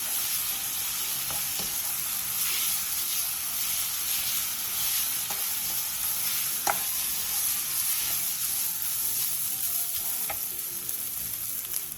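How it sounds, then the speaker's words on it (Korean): Fish cakes stir-fry with a spoonful of soy sauce in a pan over medium-low heat, giving a continuous bright sizzle with a few soft utensil taps. "간장 1스푼을 넣고 간장이 어묵에 골고루 배일 정도로만 약 1분 정도 볶아주세요"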